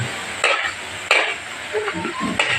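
Pinakbet with bitter melon and other market vegetables being stirred in a pot, close sizzling broken by several sharp scraping, clattering strokes of the spoon at a loose, irregular rhythm.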